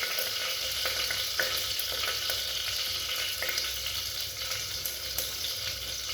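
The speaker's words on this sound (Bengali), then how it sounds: "এবারে এটা একটু নাড়াচাড়া, অল্প হালকা নাড়াচাড়া করবো" Food in a pan is lightly stirred over the heat, a constant close sizzle broken by soft, irregular scrapes and clicks of a utensil, with no voices.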